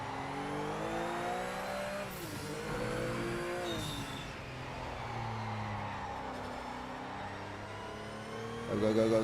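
A turbocharged race car in Project Motor Racing revs hard, its engine note climbing and dropping through repeated gear changes, with a brief sharp rise near the end and people chatting over the engine.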